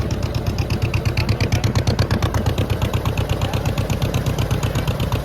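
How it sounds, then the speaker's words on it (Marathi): A boat engine chugs as the boat pulls away near Arnala village, a loud, close, rhythmic throb with steady pulsing beats and no voices. "चला, बोट हलते."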